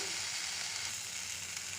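Tomatoes and curry leaves sizzle steadily in a hot pan, a loud, even frying hiss throughout with no talking.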